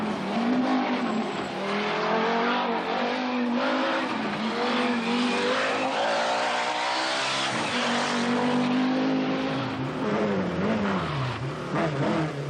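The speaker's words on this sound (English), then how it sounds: "As Toivonen momentarily locks up a front wheel" A 1982 Monte Carlo Rally saloon car snarls hard at full revs, its engine pitch swooping up and down as a front wheel momentarily locks, with tyre scrub and skidding mixed into a loud, continuous roar.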